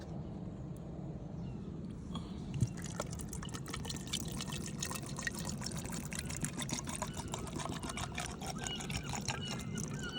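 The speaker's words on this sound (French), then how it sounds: "on va mettre la tomate dans les bocaux, hein, comme là. Ok, on va y ajouter de l'eau." Water poured into glass jars packed with tomatoes for a cold fill, making a steady, continuous trickling pour at close range that runs unbroken for about ten seconds.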